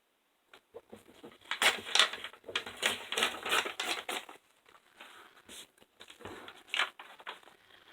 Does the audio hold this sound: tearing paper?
yes